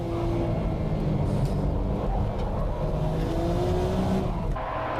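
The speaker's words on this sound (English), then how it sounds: "The Modena rocketing out from the pole." Race cars, a Ferrari 360 Modena among them, pull hard away from a standing start. Engines roar loud and steady with rising revs and a brief squeal from the tires, all without any talking.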